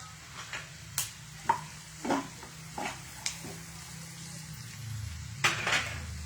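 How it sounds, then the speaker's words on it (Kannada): Cumin and onion frying in a pan give a low sizzle, broken up by repeated scraping and tapping strokes of a spatula against the pan at an uneven rhythm, close by. "ಜೀರಿಗೆ ಈರುಳ್ಳಿ ಫ್ರೈ ಮಾಡ್ಕೊತಾ ಇದ್ದೀನಿ"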